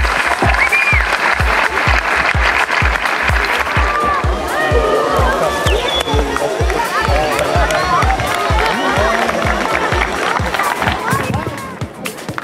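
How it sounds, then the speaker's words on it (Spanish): Crowd applause at the opening ceremony of a 2017 youth football tournament in Quellón, steady dense clapping mixed with a thudding beat and crowd babble throughout, tapering at the end. "Un aplauso de nuestra comuna de Quellón para ustedes"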